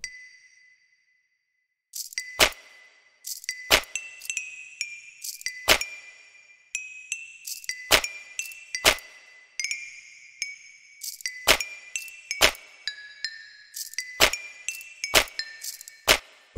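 A drinking glass struck in a bedroom as part of making music from objects: a ringing crystal tone at the start, then a rhythmic run of bright clinks and pings repeated in a beat-like pattern, close and clear.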